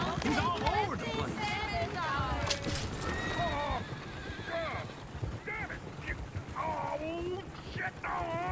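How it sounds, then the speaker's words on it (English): Horses in the Red Dead Redemption 2 video game whinny and neigh repeatedly over a steady clatter of hooves, with voices talking throughout. "Oh, shit, the horses!"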